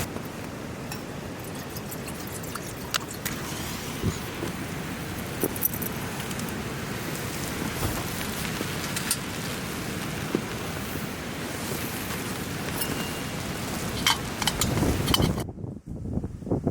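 Heavy rain drums steadily and densely on a Hilleberg Niak tent during a severe cyclonic rainstorm, a close, unbroken roar of hiss and patter that cuts off abruptly near the end.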